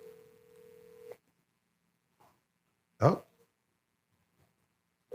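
An outgoing telephone call ringing back on a phone line, one long steady ring tone that stops after about a second, followed by a short exclamation and a brief burst of the next ring at the end.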